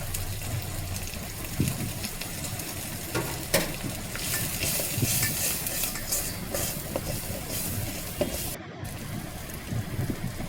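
Spices sauté in hot oil, giving a continuous close sizzle, with occasional stirring scrapes and clatters over a soft, rain-like crackle; no one talks.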